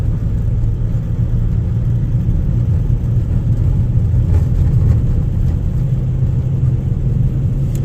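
A 2006 Volkswagen Jetta with a six-speed DSG gearbox cruising in fourth gear, heard from inside as a steady low engine and road rumble that holds evenly throughout with no talk.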